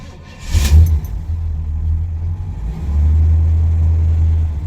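A Pontiac LeMans with its original 350 V8, dual exhaust, four-barrel carburetor and rebuilt TH350 automatic pulls away. A loud, deep engine rumble climbs, dips briefly as the transmission shifts, then settles into a steady, stronger drone.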